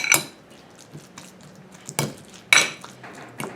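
Utensil scraping and clinking against a bowl while guacamole is mixed, a few sharp clattering hits spaced out over a quiet background.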